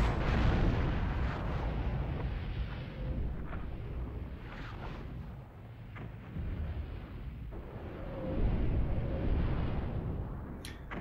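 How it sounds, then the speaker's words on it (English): Enemy gunfire and explosive blasts in the Warhammer 40k: Fire Warrior shooter game, a dense rumbling barrage of booms and bursts running steadily throughout with no talk. "I really wish you guys would stop shooting back."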